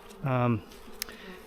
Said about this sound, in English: as we get these bees unpacked